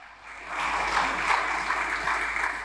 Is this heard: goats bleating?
no